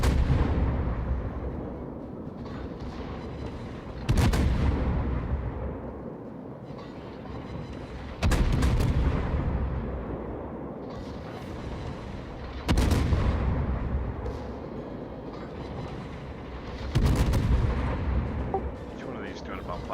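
Heavy naval guns of the cruiser Des Moines fire in a video game in four evenly spaced salvos, each a sharp loud boom fading into a rumbling tail, with a voice talking underneath.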